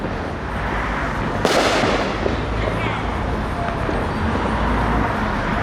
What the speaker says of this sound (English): There you go. Fireworks.